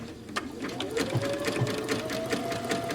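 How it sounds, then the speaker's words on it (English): A sewing machine runs a narrow zigzag stitch down a seam on knit fabric, a steady close whirring hum with a rapid mechanical tick throughout. "Okay, so I have a narrow zigzag going down and seeing if this will create a good seam for knit."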